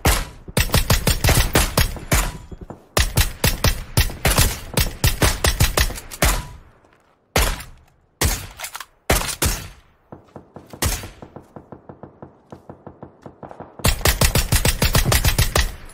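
Automatic rifle gunfire in the tactical shooter game Squad, loud rapid bursts of shots in several volleys separated by short pauses, close and sharp with no talking.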